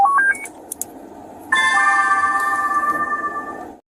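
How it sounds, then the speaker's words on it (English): Retro late-90s style computer notification tones on a police officer's computer: a few quick rising beeps, then a sustained electronic chime that rings steadily for about two seconds before stopping. "How cool were those retro computer notifications from the late 90s and early 2000s on that officer's computer?"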